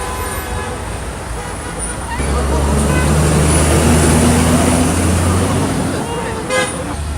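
Stalled traffic on a Beijing street, with idling cars and buses rumbling low and a horn tooting briefly, the engine drone swelling midway under a steady roadside hum.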